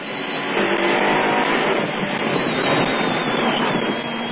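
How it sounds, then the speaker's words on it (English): Onboard a Nissan Hardbody off-road race truck during the Caledon 400 in South Africa, its engine roars loud and steady with a whining drivetrain and rough road rumble, no voices. "On board with Grobler and Leek in the Nissan hardbody."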